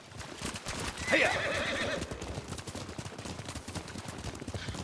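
A horse whinnies loudly in the Ghost of Tsushima video game while its hooves clop steadily at a gallop throughout, with the neigh rising near the start and the rhythmic hoofbeats carrying on alone afterward.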